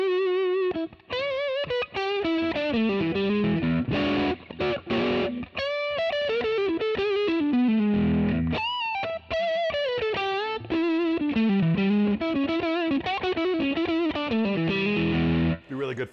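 Distorted electric guitar, a Fender 1959 Stratocaster relic with two pickups combined, plays a melodic lead line, notes sustaining and bending with short gaps between phrases, loud and close.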